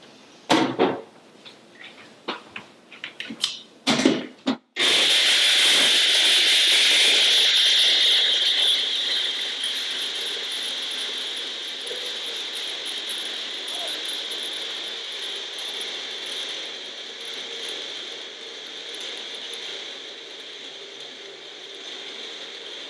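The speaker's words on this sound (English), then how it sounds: "we're just gonna try and blend it all up, see how it works" Soaked almonds and water are blended for almond milk in an ordinary countertop blender. A handful of clicks and knocks lead into a loud, steady, high-pitched whirring roar that eases to a lower, even drone and holds for many seconds.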